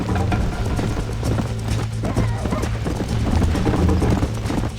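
Hooves of a horse pound in a fast, steady galloping rhythm during a race in Red Dead Redemption, loud and close, with a sustained low rumble beneath the beats.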